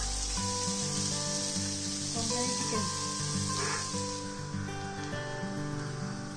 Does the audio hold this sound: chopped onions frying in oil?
yes